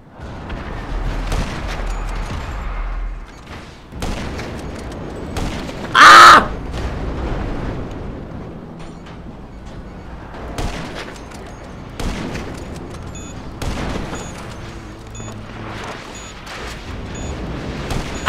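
Sniper rifle shots in the GTA video game, several sharp cracks spaced irregularly over a busy game background, with one louder burst standing out.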